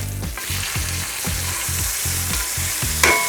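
T-bone steak sizzling loudly just after being flipped, cooked in a GE Profile Smart Indoor Smoker, with a dense close hiss and a steady repeating low rhythmic pulse beneath, no talking.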